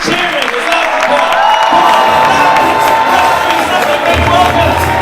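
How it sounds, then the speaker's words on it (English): A comedy show audience at an India versus Pakistan stand-up battle cheers, whoops and claps loudly and continuously, a dense wash of crowd noise filling the whole stretch. "Now start weeping and cheering as loud as you can."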